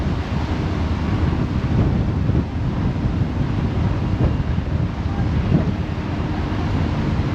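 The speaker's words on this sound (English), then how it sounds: "the waves are getting bigger" Wind and waves roar steadily around a ferry out on the open sea off Orkney, with heavy wind buffeting the microphone and the dull wash of surf beneath it for the whole stretch, with no voices.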